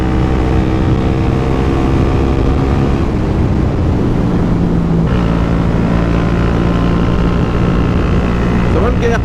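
A Suzuki GSX 125S motorcycle engine holding about 10,000 rpm in fourth gear, a steady loud drone with strong harmonic whine and wind rush throughout, rising slightly in pitch near the end.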